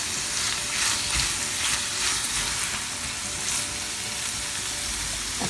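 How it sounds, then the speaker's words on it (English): Peppers, mixed vegetables and paneer sauté in a pan, giving a steady close sizzle with faint stirring scrapes that runs for the whole stretch without any talk. "Now this vegetables and paneer has been sauteed for a few minutes."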